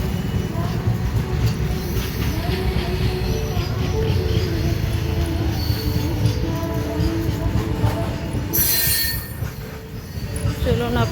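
A train rolls steadily past on a cloudy morning, its loud continuous rumble of wheels and carriages filling the scene, with faint squealing and a brief sharp hiss near the end.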